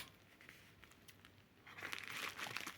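Plastic packaging of an AliExpress parcel crinkles and tears as it is opened, faint rustling at first, then a louder stretch of crinkling toward the end.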